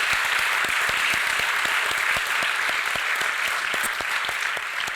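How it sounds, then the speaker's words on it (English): An audience at a Perth author talk applauds steadily throughout, a dense wash of clapping with a few sharper, distinct claps standing out. "let's just give him a clap"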